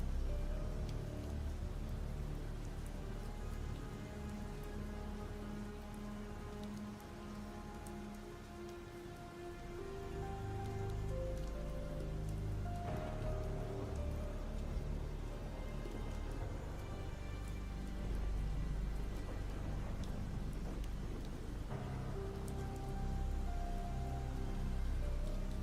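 Rain falls in Project Zomboid as a soft, continuous patter under a low rumble and a faint background tone, with no voices.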